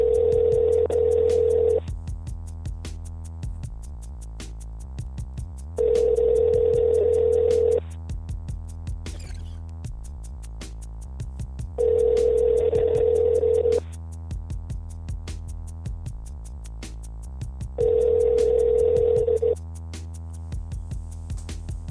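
A telephone on a call-in radio line rings repeatedly and goes unanswered, with four evenly spaced two-second ring bursts over steady background hum and no talking.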